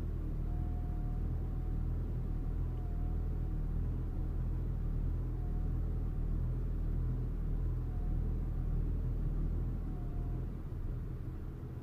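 Idling Audi A4 1.8T B8 with a hard-starting, poor-running fault, heard as a steady low engine rumble that holds close and even throughout with a faint tonal whine above it and no voices.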